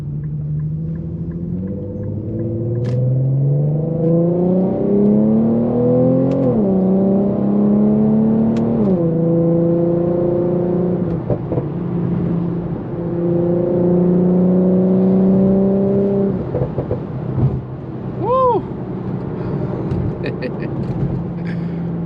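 An Infiniti Q50 with a burble exhaust tune revs hard while driving, a loud, close engine drone climbing and dropping in pitch through repeated pulls, with a brief sharp chirp near the end.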